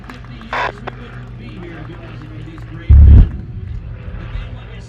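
A single heavy boom of pyrotechnic gunfire at a twilight airshow, loud and brief near the three-second mark, with a faint crowd and background chatter around it.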